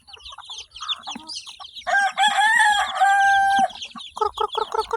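A hen clucks nearby in short bursts, then a rooster crows loudly in a long call before the clucking resumes. No one speaks.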